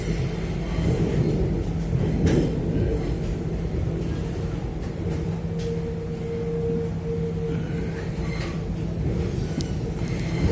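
A rapid train runs at reduced speed, heard from inside the carriage as a steady low rumble with a faint humming tone and occasional soft clunks of the wheels.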